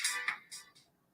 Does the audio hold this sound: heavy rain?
no